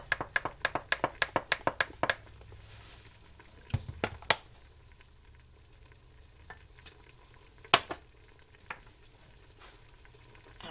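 Beef browns in a hot pan with a steady background sizzle, while a utensil scrapes and taps against the pan in a quick run of sharp strokes and then a few scattered knocks, all close and with no talking.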